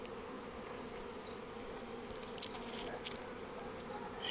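A swarm of honey bees at the hive landing board, a dense, steady buzzing hum heard close and fairly faint, continuous throughout with no voices.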